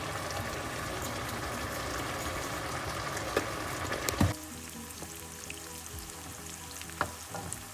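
Sliced onions frying in a pan with lentils, a dense hissing sizzle that drops sharply to a quieter, gentler crackle about halfway through, with occasional soft clinks and stirring scrapes, close and without talk.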